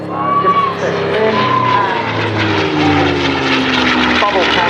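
A P-51D Mustang with a Merlin engine drones loudly overhead at an air show, a steady propeller roar with shifting pitch as it passes, while a commentator talks throughout.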